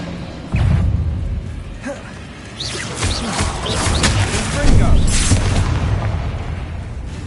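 Confringo fire spell blasts from Hogwarts Legacy, a run of heavy booming impacts with crackling bursts. The sound swells and stays loud and dense for several seconds.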